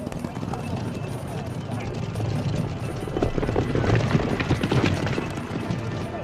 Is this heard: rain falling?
no